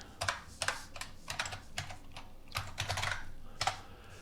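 A password is typed on a computer keyboard: about a dozen quick, light key clicks in an uneven rhythm, close and fairly quiet, with no voices.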